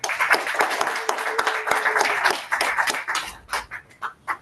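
Applause at a Toastmasters club meeting, a modest group of nearby hands clapping steadily with a faint tone underneath, thinning into sparse, distinct claps toward the end.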